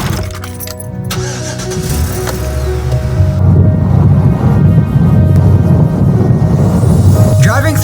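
A car drives along a road through New Hampshire, its engine and tire rumble building to a steady, loud drone heard from inside the cabin, with brief faint sounds near the end.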